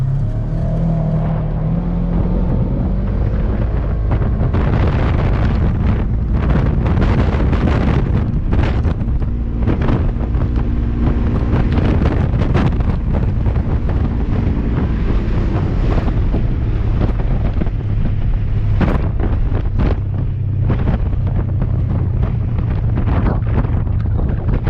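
A Polaris RZR 900 side-by-side on slick street tires drives fast, its engine droning continuously beneath heavy wind buffeting and rough rattling, loud and close throughout.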